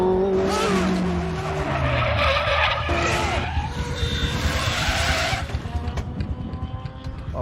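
A race car on a circuit is driven hard down the straight, its engine roaring loudly and continuously up close with tyre squeal and skidding noise mixed in, plus a brief bit of background voice.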